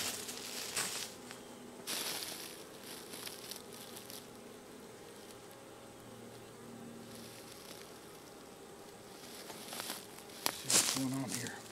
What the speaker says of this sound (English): I'm going to reach in and grab a whole bunch of bees.